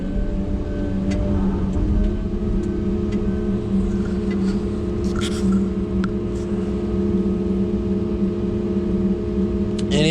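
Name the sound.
track cutter moving delimbinator onto dirt pile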